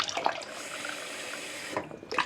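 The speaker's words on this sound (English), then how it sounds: "Let's add a bit of cold water on so I can drink it." Cold water runs from a kitchen tap into a mug of tea, a steady close splashing hiss for about two seconds with brief clinks as it starts and stops, no voices over it.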